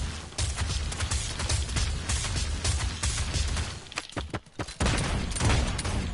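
Rapid bursts of video game gunfire from a hillside firefight, dense and loud throughout with a brief lull near the end before the shooting resumes.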